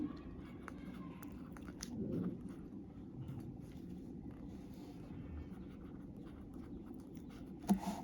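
Pen or pencil scratches faintly and continuously across paper while longitude values are written down, a soft, close scribbling over a low background rumble, with one brief sharp tap near the end.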